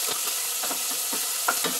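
Onions frying in oil for a sauce, a bright continuous hiss with spoon scrapes and stirring knocks recurring every fraction of a second, close and fairly loud, no talking.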